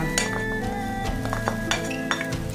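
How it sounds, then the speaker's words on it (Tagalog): Faba beans tipped into a dish while cooking foul madammas, making a run of light clinks and clatters against the dish over a steady background, close by and without speech. "Lalagay na natin ang ating faba beans."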